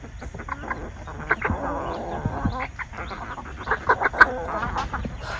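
Backyard chickens, hens and roosters, clucking in a busy flock, with repeated short calls and soft murmuring close by and no talk over them.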